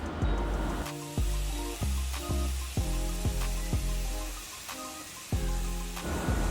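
Steady sizzling and crackling of meat patties frying in a pan, with occasional clinks and thumps of utensils over the hiss.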